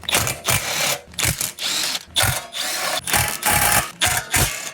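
Rapid ratcheting of a 10 mm socket wrench backing out cover bolts on a Cub Cadet or Troy-Bilt snowblower, loud and close, in repeated short bursts of clicking with brief pauses between.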